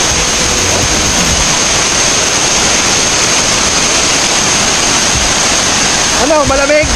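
A waterfall at Cavinti roars as steady, loud broadband rushing water throughout, with people talking briefly over it near the end.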